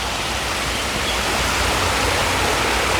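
A waterfall pours and sprays continuously, a loud, dense, unbroken rush of falling water with no other sounds standing out.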